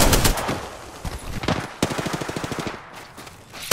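Rapid automatic gunfire in Apex Legends, a dense stream of close, loud shots with a steady rhythmic burst near the end and no talk over it.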